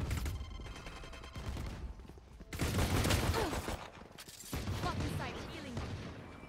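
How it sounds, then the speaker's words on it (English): Bursts of gunfire in the game Valorant, rapid volleys coming and going over a few seconds, fairly quiet, mixed with a player talking. "He's shooting."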